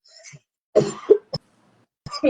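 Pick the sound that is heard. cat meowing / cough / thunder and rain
cough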